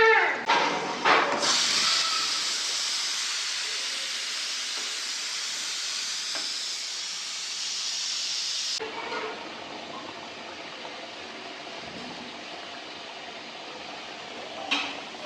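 Mutton pieces deep frying in hot oil, a loud steady hiss and bubbling sizzle that swells then settles lower, with faint clinks of a pan.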